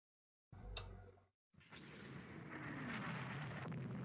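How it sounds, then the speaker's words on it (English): One heavy naval gun blast booms in the game Rule the Waves 2, then after a brief gap a rushing whoosh swells into a sustained rumbling roar of artillery fire. "Lots of gunfire exchanged,"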